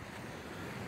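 Mediterranean Sea waves washing onto a sandy beach at Kemer, a steady broadband wash of surf with wind noise on the microphone, continuous and fairly faint with no voices.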